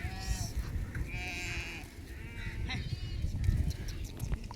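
Young Ettayapuram goat kids bleat repeatedly over a steady outdoor background, with faint voices underneath.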